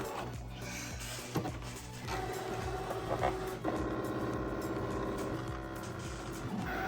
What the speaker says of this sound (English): This is the first time Felicia's ever done heat transfer vinyl on the brother machine